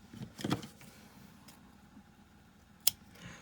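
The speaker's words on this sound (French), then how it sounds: "Je coupe l'excédent" Scissors snip excess ribbon from a bow on a decorated candle craft, a brief close cutting sound early on and a sharp single snip near the end, otherwise quiet.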